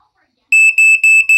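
A Black & Decker Flame Buster smoke alarm blares after a brief silence, emitting a shrill, piercing tone in four rapid pulses, loud and close.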